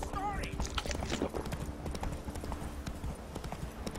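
Roach, the horse in The Witcher 3, clip-clops with steady hooves through the whole stretch, close and loud, with a short whinny early on and voices talking over the hoofbeats.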